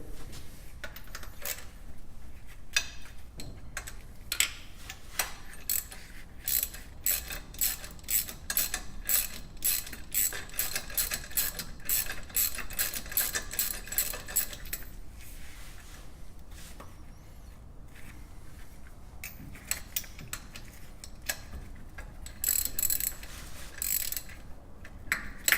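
A ratchet wrench loosening a bolt during an LS engine swap into a Stanley C10 truck, rapid close clicking in long runs with short pauses, steady and fairly loud.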